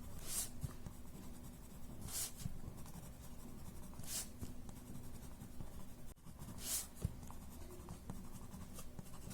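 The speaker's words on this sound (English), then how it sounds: "I've started with my watercolor gray pencil at the edges" Watercolor gray pencil being worked over paper at the edges of a drawing, a soft continuous scratchy scraping with a few sharper strokes, close and fairly quiet, no talking.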